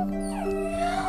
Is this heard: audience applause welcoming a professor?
no